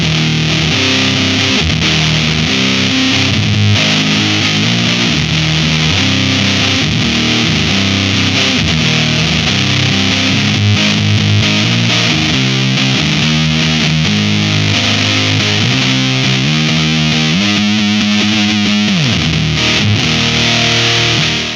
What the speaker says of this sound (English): On the left side here, we have a big full wall of fuzz type sound